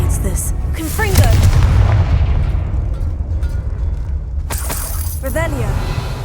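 Blasting spell explosion from the video game Hogwarts Legacy, a sharp shattering boom followed by a rumbling decay, with a second burst near the end and voices speaking over it.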